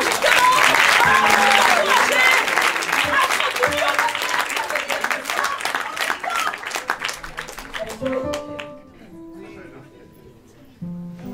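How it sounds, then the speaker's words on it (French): A live audience at a Paris improv theatre festival applauds improv performers, loud sustained clapping that gradually thins and fades, with a voice speaking over it toward the end. "On peut les applaudir bien fort, justement."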